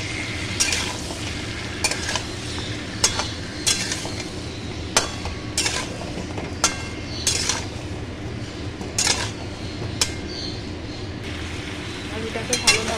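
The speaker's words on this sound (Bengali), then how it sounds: "তেলটা গরম হয়ে গেছে, আলুগুলো আস্তে আস্তে ভেজে নিচ্ছি" Potatoes coated in salt and turmeric fry in hot oil in a kadai, a low steady crackle with frequent sharp clinks and scrapes of a spoon against the pan, while someone talks over it.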